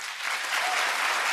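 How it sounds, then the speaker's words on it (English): Town hall audience applauding at a televised Democratic primary event, dense steady clapping from a crowd that swells slightly and holds loud throughout. "Applause for the answer."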